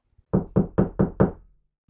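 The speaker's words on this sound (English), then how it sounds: "she heard a knock at her door" Five firm, evenly spaced knocks on a bedroom door, close and resonant, each with a short woody ring, alone in otherwise quiet surroundings.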